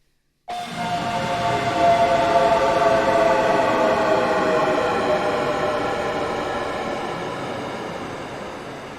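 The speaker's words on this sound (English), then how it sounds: "It will make the riser way longer." A synth tone enters abruptly and swells into a dense, buzzing, distorted drone with wavering modulation, loud and continuous, slowly thinning out toward the end.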